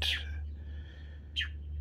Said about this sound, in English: the bird does not agree.